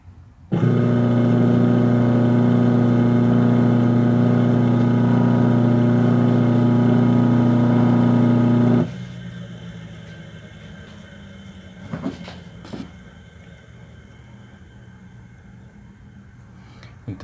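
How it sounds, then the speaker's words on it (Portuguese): A small electric motor whirs with a steady, loud, tonal hum for about eight seconds, then cuts off, leaving a quiet background with a couple of faint clicks. "eu tenho o motor girando nos dois sentidos"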